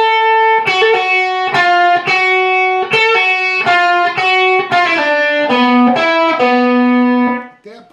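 Slow electric guitar lick from a song, played with a distorted, effected tone: a steady sequence of sustained, clearly separated picked notes and hammer-ons, loud and close, with the last note ringing out.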